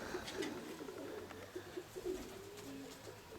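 Domestic pigeons coo in a series of soft, low calls close by, a few pulsing notes repeating over a steady background.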